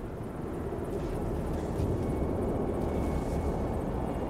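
A helicopter in the strategy game Warhammer 40,000 Dawn of War III, a steady, loud low rotor and engine drone that holds constant without pauses.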